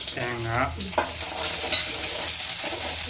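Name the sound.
lightly roasting garlic, ginger and coconut in a pan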